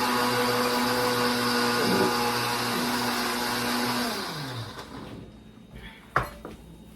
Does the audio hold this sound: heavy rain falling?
no